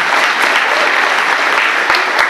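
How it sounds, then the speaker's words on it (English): Audience applause at a winter concert, a loud, dense wash of many hands clapping close by and sustained throughout, with a few sharper individual claps standing out. "Clap for Parker."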